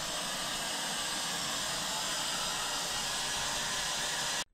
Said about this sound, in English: I also had the chance to wash my clothes in the washer-dryer combo.